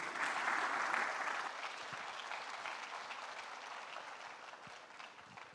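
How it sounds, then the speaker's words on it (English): A summit audience applauds the judges of a shark-tank style innovation pitch event, a dense, sustained wash of clapping from a crowd that fades gradually while staying steady. "So again, to give a round of applause to our judges"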